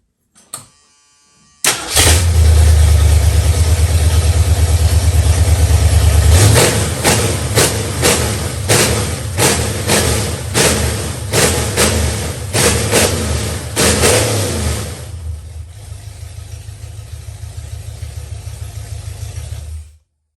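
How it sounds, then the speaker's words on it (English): A car engine, rebuilt with all new parts and later seized, cranks and starts, then runs loud and close with a string of repeated revs before dropping back to a quieter, steady idle. "let me show you guys how the engine sound before I took it there"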